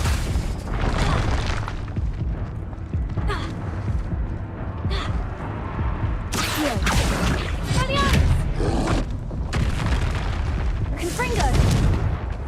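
Repeated booming blasts of the Confringo spell in Hogwarts Legacy, loud explosive bursts recurring every few seconds amid continuous combat noise, with shouted spell incantations mixed throughout.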